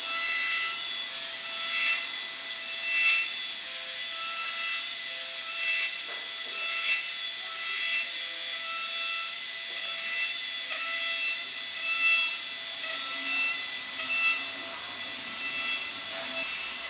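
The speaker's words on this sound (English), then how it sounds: "Then we can trim the majority of this lingual flange all the way." A rotary tool trims the lingual flange of a denture, giving a high, gritty grinding whine in repeated short passes with brief dips between strokes, close and steady, with no talk.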